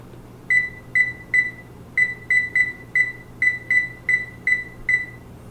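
A grill's timer is being set, giving a steady series of about fifteen sharp electronic beeps. They come in quick, slightly uneven taps, close and clear above a low hum.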